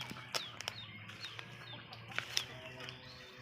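White Leghorn hens, newly laying, cluck softly at close range, scattered short calls and a few sharper squawks over a low farmyard hum.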